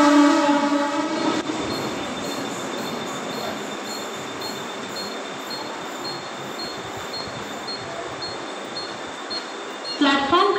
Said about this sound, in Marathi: प्लॅटफॉर्म क्रमांक 4 पर आई हुई लोकल 2:49 की मुंबई छत्रपति शिवाजी महाराज टर्मिनस जाने वाली तेज लोकल है